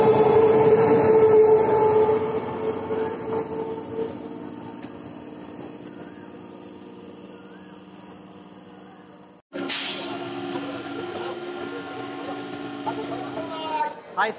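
Train pulling out of Baruipur Junction station, a steady rumbling rail roll that fades over several seconds before another louder burst of wheel and carriage noise returns close by; faint voices around.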